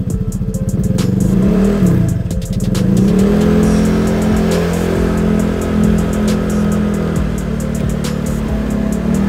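A Honda Vario 150 scooter engine on a standard setup is revved hard, loud and close, with a deep throbbing idle and repeated rising revs, and no talking.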